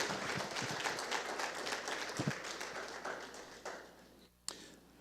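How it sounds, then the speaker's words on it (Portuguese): Church congregation clapping during worship, a fairly steady patter of many hands that thins out and fades toward the end, with a few sharp nearby claps. "Você pode aplaudir Jesus, Ele é digno."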